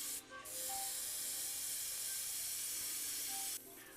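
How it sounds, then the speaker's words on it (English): A Badger Renegade Chrome airbrush sprays grey surface primer onto a scale model Mustang, a steady close airy hiss starting just after a brief stutter and holding evenly for about three seconds before easing off. "I used some grey surface primer applied with my Badger Renegade Chrome airbrush"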